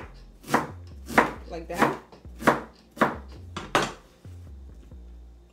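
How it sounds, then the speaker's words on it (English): Knife chopping cabbage into small pieces on a cutting board, about seven firm, evenly spaced chops close up, with a brief spoken word near the end. "I love my cabbage to be cut small pieces, not big chunks. So then I cut it in"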